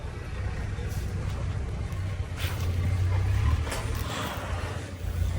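A Swraj tractor engine starts up out in a farm field and settles into a loud, low, steady rumble, with people talking over it.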